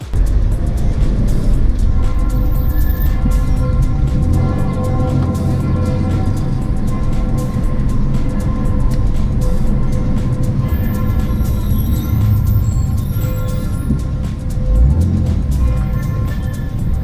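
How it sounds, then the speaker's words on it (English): BMW E46 driven hard on French roads near Rouen, its engine a loud, steady drone with shifting revs throughout and a deeper swell near the end. "It sounds nice, this car."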